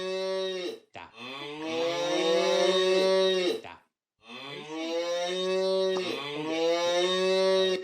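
A cow moos twice in a Unity-built game, each long, loud harmonic call lasting about three seconds with a short silent gap between, heard alone and up close with no talk.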